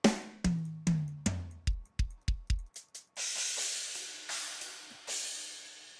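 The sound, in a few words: software drum kit playing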